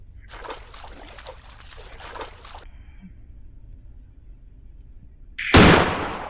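A single loud gunshot fires in the Granny sewer escape game, abrupt and close, with a fading tail. Earlier there are quieter splashing and trickling water sounds.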